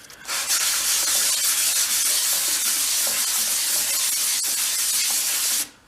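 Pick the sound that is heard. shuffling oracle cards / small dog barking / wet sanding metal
wet sanding metal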